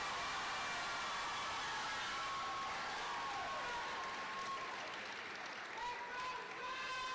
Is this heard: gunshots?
no